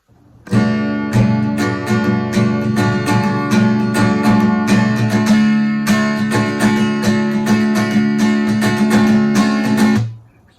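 An acoustic guitar strums a steady, rhythmic chord progression for the verses and chorus of a song, played close and loud for about ten seconds before stopping. No talking.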